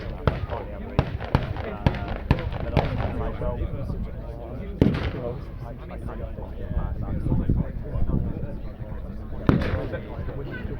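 Sharp gunshot cracks from a battle reenactment at Tankfest, a rapid string of bursts followed by scattered single and louder shots, with a commentator talking throughout.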